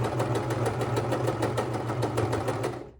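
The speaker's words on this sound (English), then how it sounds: "Now we just have to sew along this." A sewing machine stitching the seam of a long slip dress, its needle running at a fast, even hum with steady mechanical clatter, close and uninterrupted until it slows and stops at the end.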